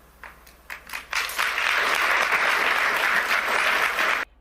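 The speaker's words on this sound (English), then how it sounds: "When the audience interrupts you with applause, stop talking." Audience applause during a speech at the Davos forum, starting with a few scattered claps and swelling into steady, dense clapping across the hall before cutting off abruptly.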